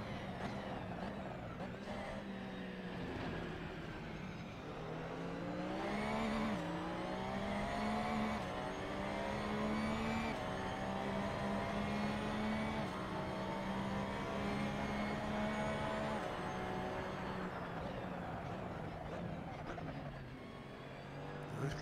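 Race car engine in Assetto Corsa on PS4 at Imola during a championship race, a continuous loud engine drone rising and falling in pitch through gear changes over about twenty seconds, with no talking.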